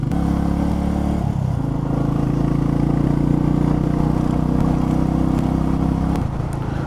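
A Royal Enfield Meteor 350 motorcycle engine idles close by with a steady, throaty rumble that holds even throughout, briefly dipping near the start.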